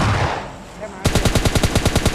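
In the video game PUBG Mobile Lite, a second of noisy ambience gives way to a loud, rapid automatic burst of gunfire, with evenly spaced shots firing in quick succession.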